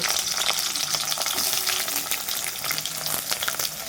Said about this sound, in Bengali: গরম তেলে দিয়ে দিচ্ছি পেঁয়াজ কুচি